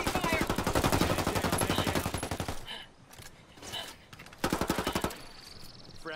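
Rapid automatic gunfire from a video game shooter rattles in long close bursts, breaks into quieter scattered shots, then returns in another loud burst.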